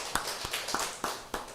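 A church congregation applauding during a Sunday worship service, with a handful of sharp, evenly spaced claps close by, brief and fairly quiet.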